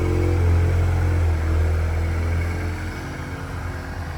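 A tuned Volkswagen Golf R or Audi 8Y RS3 engine runs loud and close, a deep steady rumble that swells and then settles to a slightly quieter idle with no talk over it.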